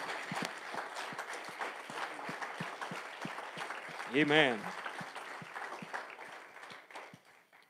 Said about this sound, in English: why don't you give Jesus a hand clap of praise tonight?